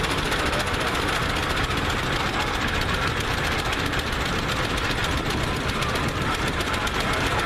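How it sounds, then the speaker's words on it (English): An old Avery four-cylinder tractor engine running steadily with a fast, even mechanical chugging and loud continuous rumble, close by, without speech. "this is also one of the last four-cylinder tractors Avery ever built"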